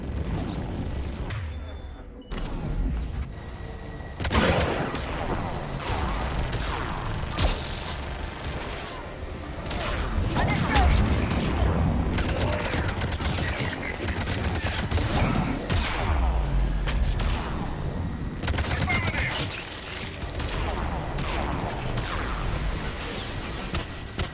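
Sustained barrage of missile launches and gunfire in the Mass Effect 3 video game, booming explosions and rapid shots overlapping loudly and densely throughout, with brief quieter gaps and some voices mixed in.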